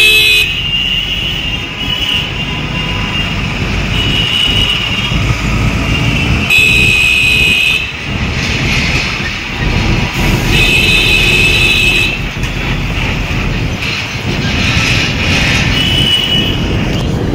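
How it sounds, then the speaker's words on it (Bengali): Heavy road traffic roars past with cars and lorries, repeated horn toots cutting through a loud, constant engine rumble and strong wind buffeting the microphone. "এত গাড়ির আওয়াজ আর ওইদিকে চলছিল হাওয়ার আওয়াজ"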